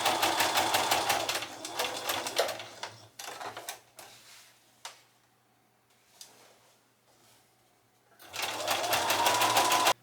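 A domestic sewing machine runs in fast, steady bursts with a dry, clattering mechanical rattle, pausing in the middle for quiet ticks and handling noises before stitching resumes loudly near the end.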